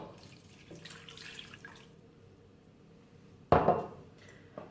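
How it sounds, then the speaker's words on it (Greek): Boiling water is poured into a pan for a chocolate cake syrup, a sudden loud splashing gush near the end after a quiet kitchen stretch. "Το νερό μας που είναι βραστό."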